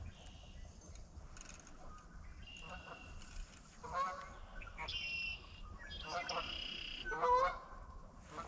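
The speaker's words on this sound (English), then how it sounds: "Ducks are and geese are a little restless over there tonight." Geese honking restlessly from across the water at a small Ontario creek in the evening, several scattered calls at moderate distance over a steady low background, with ducks nearby.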